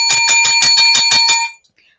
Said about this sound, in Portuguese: deixa eu pegar minha campainha